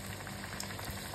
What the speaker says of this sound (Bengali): হচ্ছে আমাদের লুচি ভাজা।